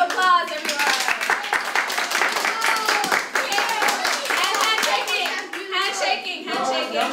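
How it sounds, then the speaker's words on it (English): Scattered hand clapping from an audience at a school English debate competition, with voices, including children, talking and calling out over and between the claps. "Round of applause, everyone."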